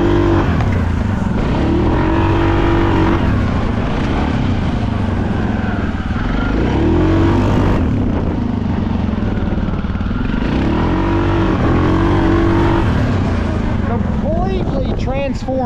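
A Suzuki KingQuad 750 ATV engine roars loud and close, revving up and down in repeated surges and holding high, throaty pitches throughout.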